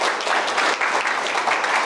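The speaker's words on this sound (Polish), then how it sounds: "Proszę o gorące brawa." A hall audience at a regional NGO forum in Nowy Sącz, Poland, applauds warmly to welcome a guest, a brief, even wash of many hands clapping at moderate volume.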